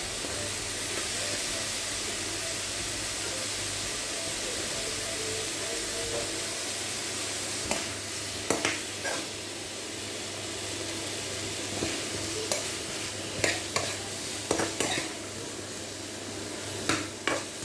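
Butter sizzles in a pan with carrots and other vegetables, a steady soft frying hiss throughout, with occasional scrapes and taps of stirring near the end.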